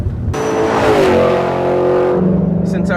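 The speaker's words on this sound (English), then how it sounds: "If you're the kind of person that likes to sit near the speakers at a rock concert, you're gonna love our S-Type exhaust." Ford Mustang GT fitted with a Borla S-Type exhaust revs loudly, its engine note climbing in a sustained roar, then settling back to a deep, steady burble; no talk over it.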